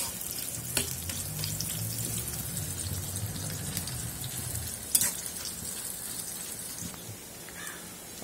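Chopped onions frying in hot oil in a pan, giving a steady, dense sizzle with soft crackles and one sharp clink near the middle, close by and with no talking.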